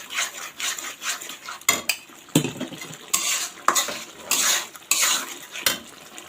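Masala for an egg curry being stir-fried in oil in a pan, loud repeated scraping and clattering of a spatula against metal over a low sizzle, close and irregular with no talk.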